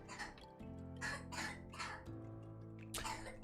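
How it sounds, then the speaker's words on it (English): A young boy with bad allergies coughs in the background while napping, several rough bursts spread across a few seconds over a steady low hum. "I do apologize for my son coughing in the background."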